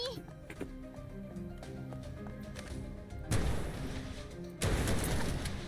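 Gunshots from a ricocheting single-shot weapon in Snowbreak: Containment Zone, two loud broadband bursts about a second apart over game music, with someone talking underneath.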